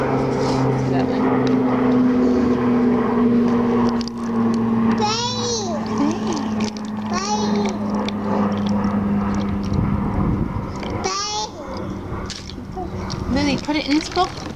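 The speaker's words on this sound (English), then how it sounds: "Is that a plane?" A propeller airplane drones steadily overhead through the first half, fading out as children and an adult chatter over it indoors.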